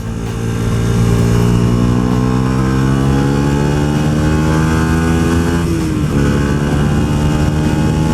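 A Yamaha YZF R125 motorcycle with a Tuneboss ECU tune downshifts and revs on a test ride, its loud, close engine climbing steadily in pitch, dipping sharply at the shift, then rising again over wind noise.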